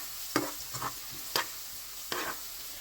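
Garlic and ginger stir-fried in a pan, with four short scraping, sizzling bursts of stirring spaced apart over a quiet background.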